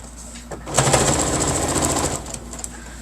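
A sewing machine backstitches over a seam while making a bookmark and pen-holder gift piece: a close, steady mechanical whirring burst of rapid stitching lasting about a second and a half, with quieter handling noise before and after.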